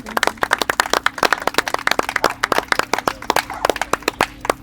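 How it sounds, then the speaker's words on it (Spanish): A small audience at a street political event in Rivas gives warm applause for the production team, sharp individual claps popping out in an irregular, fairly close patter that continues throughout. "Así que pido un caluroso aplauso."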